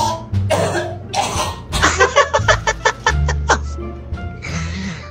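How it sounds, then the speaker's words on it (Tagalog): A person coughs repeatedly in a rapid series of sharp, loud bursts, with voiced sounds before and after. "Yung ubo ang palatandaan na may tao sa loob ng CR."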